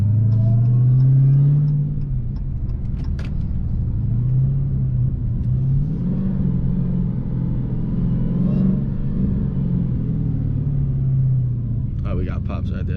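A hoodless 2016 Dodge Challenger Hellcat engine revs loudly and roughly with a deep rumble, rising and falling for several seconds, while people talk and react nearby.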